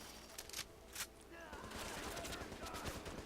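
Rifle gunfire in Tom Clancy's The Division: two sharp, loud shots early on, then a denser, rumbling stretch of game combat noise.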